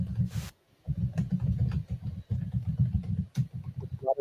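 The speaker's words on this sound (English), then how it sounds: "You were typing very loudly." Someone types loudly on a computer keyboard: rapid, irregular clacks close to the microphone, broken by one brief pause.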